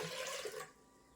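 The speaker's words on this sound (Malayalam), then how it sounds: "പിന്നെ ഈ മിക്സിയുടെ ജാറ് കഴുകിയ വെള്ളം ഒഴിച്ചു കൊടുക്കാം." Water used to rinse a mixer jar is poured out in a steady broadband splash for about two thirds of a second, then cuts off abruptly, leaving quiet room tone.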